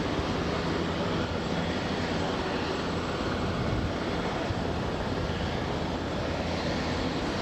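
A Beechcraft King Air turboprop departs Aberdeen airport, its engines giving a steady, loud, broadband roar that holds level throughout with no talk over it.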